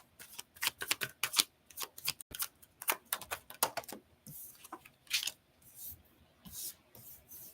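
A deck of tarot cards being shuffled close up: rapid riffling bursts and soft rubbing sounds repeating in quick runs, with no talking.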